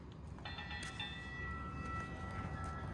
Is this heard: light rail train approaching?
yes